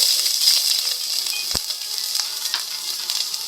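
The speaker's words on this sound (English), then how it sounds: "Now I'm going to saute these vegetables. Add the onion." Chopped onion sautéing in vegetable oil in a pot over medium-high heat, a steady close sizzle and crackle with faint stirring scrapes and one brief clunk midway.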